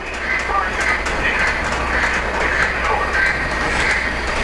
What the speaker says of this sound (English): get the elf work train going, which I now have moving